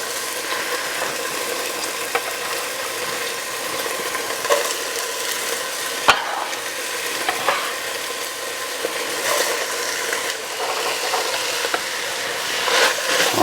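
Peppers, onions and poblano chiles frying in rendered beef fat in a stew pot, a steady loud sizzle with occasional stirring scrapes and clinks, no voices.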